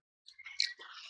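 Crunchy fried murukku snack is bitten and chewed close up, a short run of soft, quiet crunching and mouth sounds lasting under a second.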